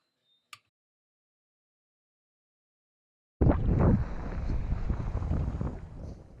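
Strong wind gusts buffet the microphone at an exposed point on a lake fishing spot, starting abruptly after a few seconds of near silence and roaring steadily and loudly to the end.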